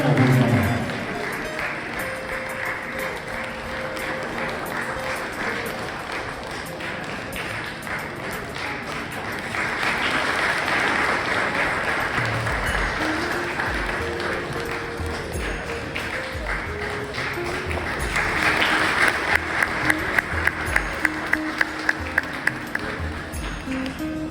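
Audience applause at an Onam celebration of a Qatar-based Malayali association, sustained crowd clapping that swells and fades in waves, with a rapid run of sharp claps near the end and faint talk underneath.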